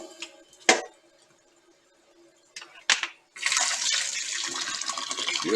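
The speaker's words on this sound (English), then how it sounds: "I run some cold water down the drain." Cold tap water pours into a kitchen sink and down the drain, a steady rushing splash that starts partway through after a few clunks and thumps.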